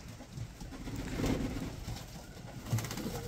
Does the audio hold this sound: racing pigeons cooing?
yes